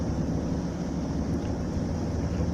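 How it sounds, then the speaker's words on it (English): A sailboat's engine motors along the Norwegian coast as a steady, continuous low drone with a broad wash of wind and water noise, no voices. "So I have fired up the engine and it's doing a very nice job"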